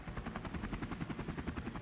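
Helicopter rotor blades whirling in a loud, steady rhythmic chop with evenly spaced pulses throughout and no voices.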